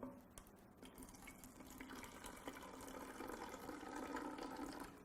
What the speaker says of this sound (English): we take a little bit of vinegar and pour it inside the bottle